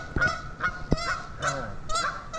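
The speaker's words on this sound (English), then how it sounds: "Those are geese." Geese honk outdoors by water, a string of sharp, nasal honks in uneven rhythm, several overlapping calls, moderately close, with faint background noise.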